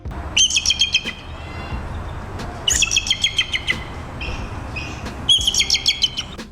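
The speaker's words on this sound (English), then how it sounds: "these scary birds emit a high-pitched giggle-like sound, or a weak scream" Repeated bursts of high, rapid chittering calls from a bald eagle, like a thin giggling whistle, in three bouts separated by quieter pauses.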